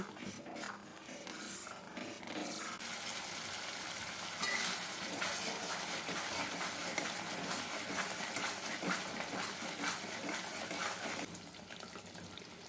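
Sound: sautéing eggplant masala with cashew paste and sugar

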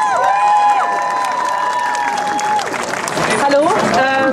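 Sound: applause

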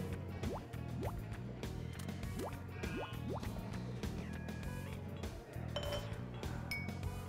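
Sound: pouring soda or mineral water into orange drink glass

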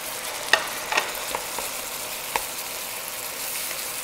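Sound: onions stir-frying in a pan for pan fried noodles

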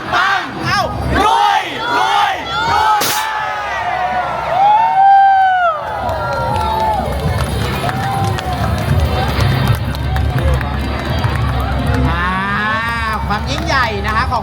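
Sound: crowd shouting a chant at Navaratri festival

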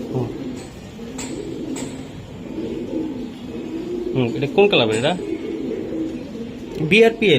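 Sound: racing pigeon cooing

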